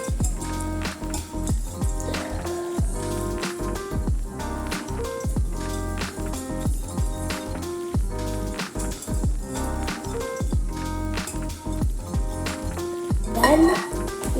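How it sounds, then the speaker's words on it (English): Gluten-free brownie batter of eggs and vanilla being stirred in a bowl, with a run of wet squishing and utensil clinks against the bowl at a busy, irregular pace, close and fairly loud. "Then you stir it all together."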